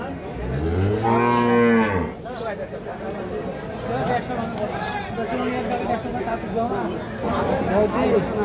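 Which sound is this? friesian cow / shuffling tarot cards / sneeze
friesian cow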